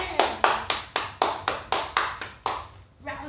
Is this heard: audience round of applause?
yes